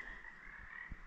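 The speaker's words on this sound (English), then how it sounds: "The frogs, you can hear them." Frogs croaking at night near a trail camp on the Pacific Crest Trail, a steady faint chorus with a couple of deeper croaks standing out, no talking.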